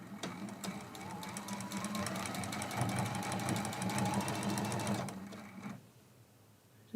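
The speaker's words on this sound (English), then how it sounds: "And we sew this seam." A sewing machine runs a quilt block seam in one continuous burst of rapid, even needle stitching, loud and close, then stops and the room falls quiet.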